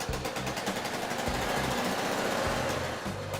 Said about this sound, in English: Sounds like the exhaust is blowing.